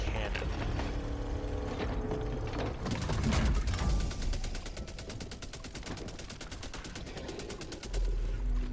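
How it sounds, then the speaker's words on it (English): The Super Earth Armed Forces Orbital Defense Cannon in the Helldivers 2 video game fires rapid, loud bursts of gunfire over mechanical clanking and whirring, with dense repeated shots and a heavy boom near the end. "the Super Earth Armed Forces Orbital Defense Cannon"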